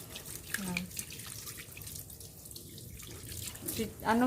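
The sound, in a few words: rinsing hands with water from a tap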